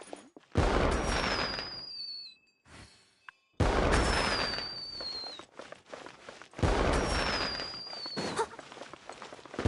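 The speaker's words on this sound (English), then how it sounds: "Fireworks!" Fireworks going off in the fantasy game Genshin Impact: three loud bursts of crackling pops, each with a rising whistle, separated by short gaps.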